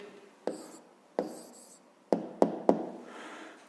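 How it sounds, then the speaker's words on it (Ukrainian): Pen writing an answer by hand on paper during a fifth-grade maths exercise: a few short scratchy strokes and sharp taps, five distinct marks spaced irregularly, close and clear against a quiet room. "записуємо відповідь"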